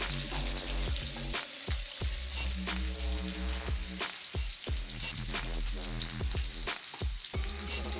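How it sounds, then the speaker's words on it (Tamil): Onions sizzle and crackle steadily in hot oil, with occasional clinks and scrapes of a spoon stirring the pan. "வெங்காயத்துக்கு கொஞ்சம் கலர் சேஞ்ச் ஆகிற வரைக்கும் வதக்கிக்கலாம்"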